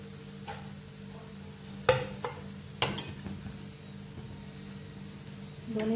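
Slices of bread fry in ghee in a pan for a bread custard dessert, giving a soft, low sizzle. A few sharp clicks and knocks from handling the slices break through the frying.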